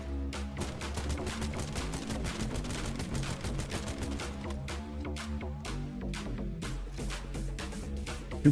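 Rapid bursts of automatic gunfire from a looter-shooter video game during a Hailey mobbing build test, dense and continuous for several seconds with brief gaps, loud and close with no talking.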